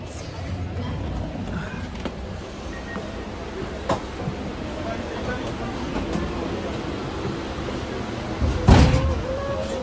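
Inside a passenger train carriage during boarding, with a steady low rumble, scattered knocks and a loud door slam or clunk near the end, while people talk in the background.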